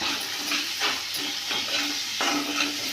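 Spices are stirred into a sizzling masala gravy for a drumstick curry, with a steady frying hiss and repeated scraping strokes of a spoon in the pan.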